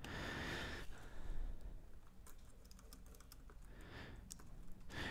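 Rapid clicking and tapping comes from a computer keyboard during text entry in cutting software, with quick irregular keystrokes at close range, some soft breathing, and a brief louder burst of typing near the end.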